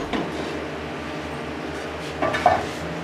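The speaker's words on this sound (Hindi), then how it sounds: "कढ़ाई को चूल्हे पर रखेंगे।" A kadhai wok set down on a kitchen stove, a short metallic clank and scrape near the end over a low, steady background hum.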